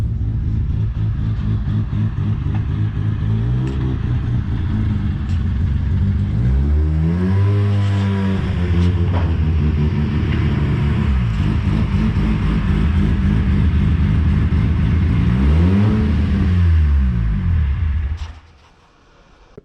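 Turbocharged Volvo 940 with a stock bottom end pulling hard at 30 psi boost, engine rising through repeated loud rev sweeps and gear changes, close and continuous before cutting off abruptly near the end.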